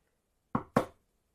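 Two sharp, close knocks on a bedroom door, evenly spaced in quick succession, alone against near silence.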